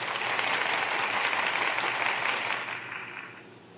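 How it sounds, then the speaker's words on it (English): An audience bursts into dense, steady applause that holds strong for a few seconds, then fades out toward the end. "so I'll give you this another applause for that."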